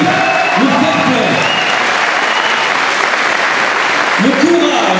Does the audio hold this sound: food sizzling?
no